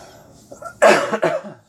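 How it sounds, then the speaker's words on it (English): A single harsh cough bursts out with a second, weaker one right after, close and loud against a quiet room, with faint low murmuring before it. "Still got this cough."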